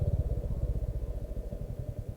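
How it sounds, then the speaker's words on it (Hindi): A motorcycle engine thumps with a low, rhythmic pulse as the bike is ridden slowly into parking on a hilly road in Himachal Pradesh, close and steady, without talk. "अब यहाँ से पार्किंग में लगाएंगे अपनी बाइक।"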